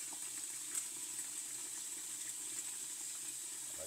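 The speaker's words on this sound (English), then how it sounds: "I use running water to help get under the shells" A kitchen tap runs steadily into a sink as boiled eggs are peeled under the stream for pickled red beet eggs, a quiet continuous hiss with no talking.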